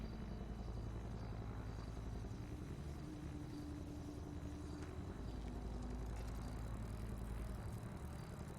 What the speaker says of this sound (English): I hear a heli.